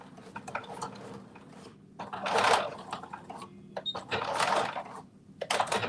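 A home sewing machine stitching pinned fabric while it is stretched, a whirring motor with rattling bursts that swell and fade in several uneven runs, fairly close, with no talking.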